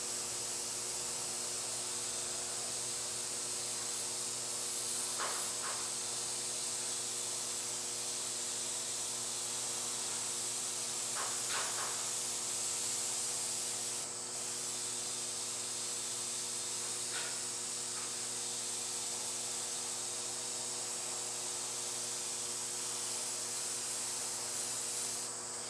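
Airbrush spraying paint to add shadow, a steady close hiss that runs without pause and carries a few faint clicks and taps.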